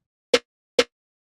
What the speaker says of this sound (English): I want to show you just a stock snare that I was working with.